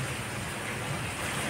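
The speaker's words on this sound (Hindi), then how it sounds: "बारिश हो रही है, मजा आ रहा है।" Rain falls steadily during a storm, a soft, even hiss of drops for a brief moment, with no voices over it.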